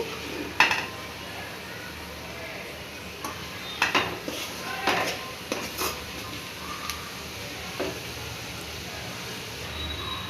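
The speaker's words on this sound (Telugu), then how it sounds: "ఇలా బాగా కలిసేలాగా గరిటెతో తిప్పుకోవాలి" A ladle stirs gongura (sorrel leaf) curry with chili powder in a pan, making sporadic metallic clinks and scrapes over a quiet room background with a few louder knocks against the pan.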